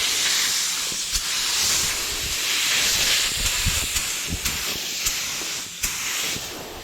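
A spray gun hisses steadily and close while laying base silver paint on Harley-Davidson tins, a continuous airy spray with brief clicks and pauses as the trigger is worked.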